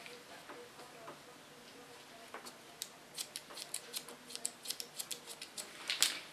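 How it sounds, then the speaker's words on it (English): Scissors snip through hair during a pixie haircut, with soft, crisp cuts coming slowly at first and then in a quicker, rhythmic run of close, faint snips. "I take a small part out of the hair with my fingers, guide it to my comb. And then cut it"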